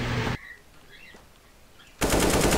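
Loud automatic rifle fire from a CS:GO match, shot through a wall: a dense burst opens, a near-silent gap of about a second and a half follows, then a second sustained burst rattles in close and loud.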